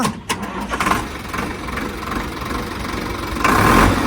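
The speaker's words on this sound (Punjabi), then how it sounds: "ਮਾੜਾ ਸਟਾਰਟ ਕਰ ਦੇ ਵੀਰੇ ਟਰੈਕਟਰ" A Sonalika 750 tractor engine sputters and catches, then settles into a steady rumbling idle that swells slightly louder near the end.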